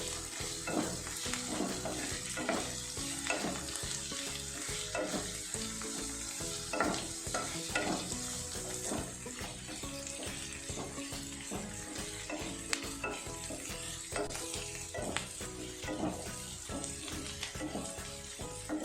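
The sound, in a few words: thinly chopped onions frying and being stirred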